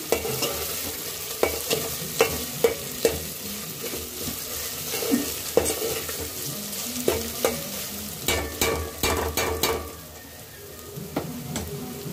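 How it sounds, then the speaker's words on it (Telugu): Ginger-garlic paste is stirred with a ladle in a hot frying pan for country chicken curry: repeated close scrapes and taps of the ladle over a steady sizzle, with no talking. "వేసిన తర్వాత ఒకసారి గరిటెతో చక్కగా కలుపుకోవాలి."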